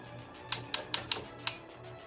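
Plastic arm joints of an MMC PS-14 Incursus action figure ratcheting, five sharp quiet clicks heard close up in a quick uneven run.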